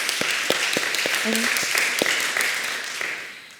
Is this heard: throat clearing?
no